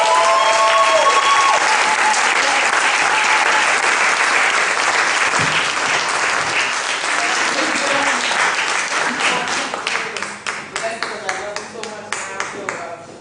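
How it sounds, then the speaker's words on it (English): Audience at a poetry honors event applauds loudly and steadily, a dense wash of clapping that thins toward the end into scattered individual claps, with some voices mixed in. "Give her a huge round of applause"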